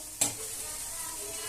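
Masala sautéing in oil in a home kitchen pan, a steady close sizzle with one brief sharp clink of the stirring spoon near the start, no voices.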